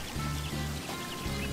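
Rain patters steadily in Sakuna: Of Rice and Ruin, with a soft continuous hiss and faint drips over a low, pulsing background for a short moment.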